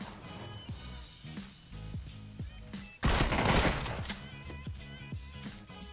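A DBS shotgun fires once in PUBG, a sudden loud blast halfway through that rings out and fades over a tonal background with soft plucked notes.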